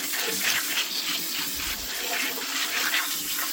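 Garden produce gets washed under a running tap, a steady close rush of water splashing over the vegetables for a few seconds, with no talking.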